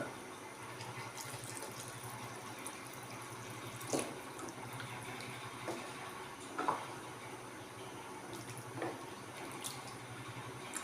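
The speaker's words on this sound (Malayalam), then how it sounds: "പിന്നെ ആവശ്യത്തിന് വെള്ളം ഒഴിച്ചു കൊടുക്കുക" Water poured into a pot of Neymeen fish curry, a soft continuous trickling pour with a few faint clinks, quiet and alone.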